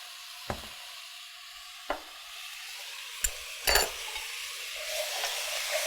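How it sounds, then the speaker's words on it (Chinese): Sauce of soy sauce, vinegar, sugar and Shaoxing wine stirred in a wok, a few sharp scraping clacks of the spatula against the pan over a soft, steady sizzle. "那我们把所有的酱汁给炒匀"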